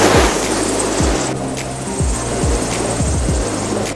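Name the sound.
strong wind on a sailing yacht at sea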